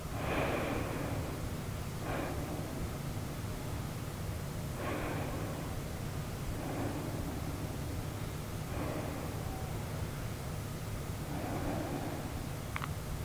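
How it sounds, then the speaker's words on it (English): Deep, slow breaths during a quiet yoga session, a few soft, airy inhales and exhales repeating every couple of seconds over a steady low background hum. "3 deep and slow breaths here"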